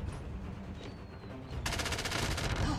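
Gunfire in a shooter video game: quieter game ambience at first, then a sudden loud burst of rapid automatic shots that keeps rattling to the end, with no speech.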